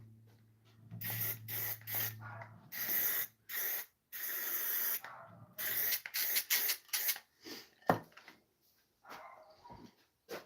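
Watco lacquer sprays from an aerosol can in a series of loud, hissing bursts of varying length separated by short pauses, close to the microphone.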